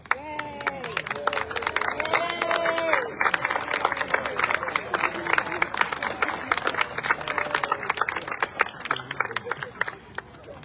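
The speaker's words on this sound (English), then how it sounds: "all the fathers in the band and the audience, all to stand up and cheer us all on" Audience at a band concert applauding and cheering for fathers, dense steady clapping with scattered shouts and murmured voices throughout, fairly close and continuous.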